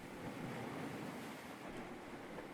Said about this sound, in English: the endless waves pushing and pulling across the sands